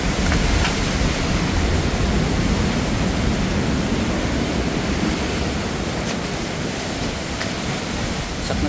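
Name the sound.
strong ocean waves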